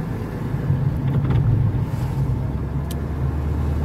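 A car drives through a road tunnel with a steady rumbling engine and road roar, wind buffeting and echoing drone, close and continuous with no talking.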